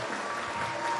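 Applause at an Indonesian network-marketing seminar, a brief, soft, steady wash of many hands clapping at a distance.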